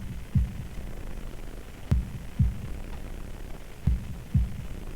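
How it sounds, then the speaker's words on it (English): Heartbeat sound effect from the visual novel Katawa Shoujo: soft, low, thudding double beats repeating about every one and a half seconds, close and muffled over a faint hum. "holding my breath in an attempt to hear my heartbeat"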